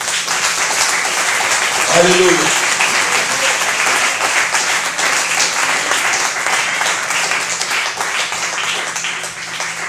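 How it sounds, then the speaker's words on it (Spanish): A church congregation claps loudly and continuously, with dense, steady applause filling the room and a voice briefly calling out over it. "Denle un aplauso al Señor."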